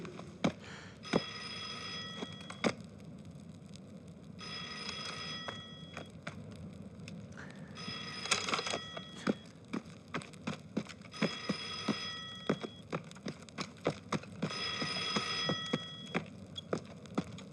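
An old field telephone bell rings repeatedly in a wartime drama, in bursts of bright metallic trilling separated by short pauses and sharp clicks, steady and close with no speech.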